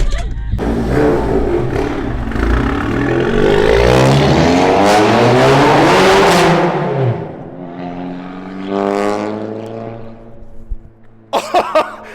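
Tuned 350 hp Volkswagen MK7 GTI engine revving hard and held near redline, a loud, rising, raspy roar that sweeps up, then drops away as it decays, followed by brief voices.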